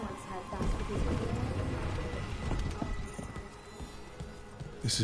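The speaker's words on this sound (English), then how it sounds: "Raining again." Steady rain falls in a Dragon Age video game scene, a continuous hiss of drops spread across the whole stretch, moderately loud with a few scattered taps, and no one talking over it.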